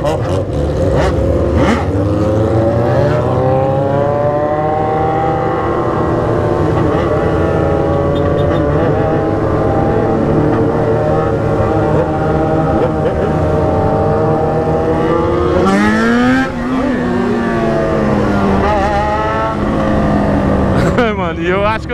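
A group of motorcycles, including a BMW S1000, riding together on a street ride, with loud continuous engine drone and shifting revs throughout, and voices talking over the noise.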